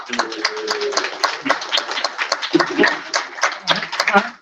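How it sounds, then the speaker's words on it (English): A studio audience claps steadily in a dense, lively burst at a daytime TV fan event, with occasional voices and laughter mixed in. "Clap if you would want to see Chanel, Tripp, and Allie"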